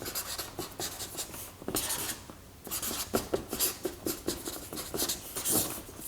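Pen scratching across a sheet of paper in quick, uneven strokes, close and fairly quiet, with short pauses between bursts of writing and no talking.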